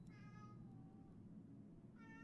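A cat meows twice with clear, tonal cries, one at the start and another near the end, over a steady low background rumble from an ambient game soundtrack.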